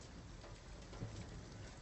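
Steady rain falling in the Detroit: Become Human video game, a soft, even hiss of drops on surfaces with a faint low rumble underneath, no voices.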